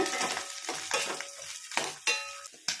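Cashews sizzle in hot fat in a pan for ada payasam, with a spoon scraping and stirring in short repeated strokes between the steady frying hiss.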